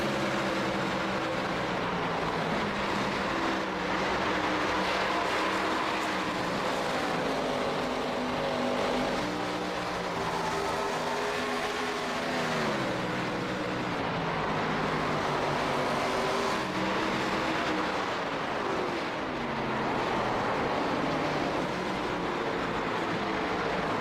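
Several race cars in a CORE Premier Series race pull onto pit road together, their engines droning steadily with rising and falling pitch as they slow and shift, loud and continuous with no voices.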